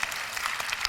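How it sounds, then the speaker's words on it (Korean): Congregation applauding at a Christian prayer gathering, a short, fairly soft burst of many hands clapping heard on its own. "하나님께 영광의 박수를 올려드립니다"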